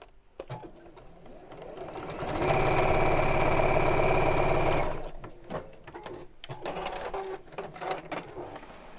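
A home sewing machine stitches fabric with white thread, running in one steady loud burst for a couple of seconds with softer clicks, handling and fabric rustle before and after.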